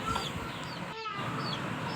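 A hen clucking in a house yard in Kerala, a few soft, fairly faint clucks over quiet outdoor background.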